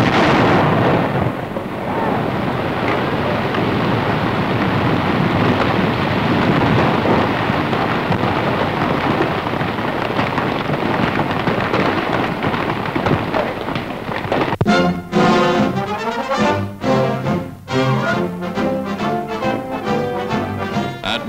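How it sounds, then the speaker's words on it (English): A dynamite explosion beneath a river bottom: a long, dense roar like rushing debris and water, followed by a series of sharp, booming crackles, loud and close. "Now hold tight and watch for the explosion."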